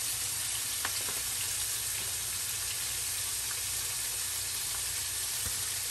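Prawns and chicken frying in a pan to break a fast, a steady dense sizzle throughout with faint stirring clicks, close and continuous with no voices.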